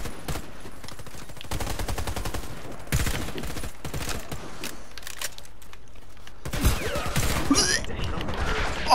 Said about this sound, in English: Oh, it's fucking burst fire.